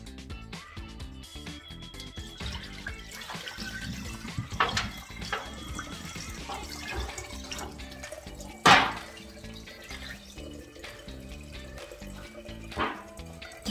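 Running water rinses a flute after it has soaked in cleaning solution, a steady low wash with small drips and splashes throughout and one sharper splash partway through.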